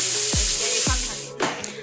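Fish frying with shewali flowers and coriander leaves, stirred in a pan: a steady sizzle throughout, with a couple of quick scraping strokes and a louder stir near the end.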